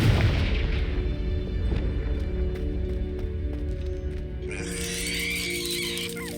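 Confringo blasting spell going off in Hogwarts Legacy, a loud booming blast at the start whose rumbling tail fades under layered game music and ambience.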